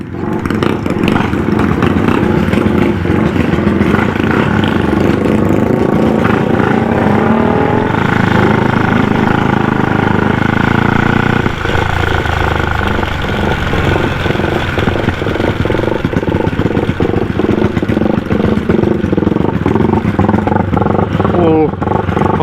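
A modified four-valve Honda Wave motorcycle engine with a 59 mm bore kit revs hard and close, a loud, continuous rasping roar. Throttle blips and surges run through the whole stretch without a break.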